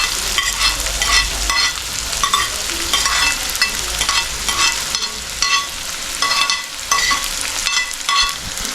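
Onion and green chilli sizzle loudly in a hot pan, a continuous close frying hiss broken by repeated stirring scrapes, with no talking.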